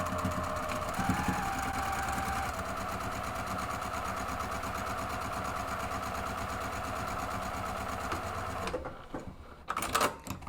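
A home sewing machine runs steadily for about nine seconds while back stitching the vertical divisions of a drawstring purse, its needle chattering at an even mechanical rhythm up close, then stops, leaving a few faint clicks and handling sounds.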